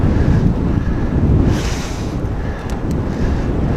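A steady headwind roars across the microphone on a road bike ride near Cedar Island, a loud, low continuous rumble that rises and falls slightly, with no talking.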